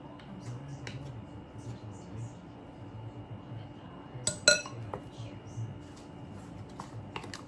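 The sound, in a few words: spoon being cleaned off, clinking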